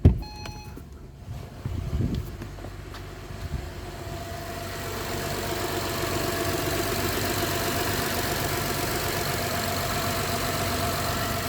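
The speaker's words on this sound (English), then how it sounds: "we're going to turn the car on" A 2012 Acura TL car engine turns over and settles into a steady, rumbling idle that holds constant and fairly loud.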